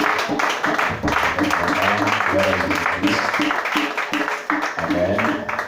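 A church congregation applauding during a worship service, sustained dense clapping from many hands with voices mixed in throughout, close and loud.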